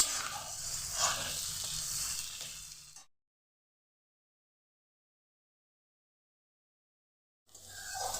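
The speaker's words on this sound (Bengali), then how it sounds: "আলুগুলোকে এখন একটু ভেজে নিচ্ছি।" Potatoes fry in a pan with spices, a steady close sizzle for a few seconds that cuts off into silence, then the sizzling returns briefly at the end.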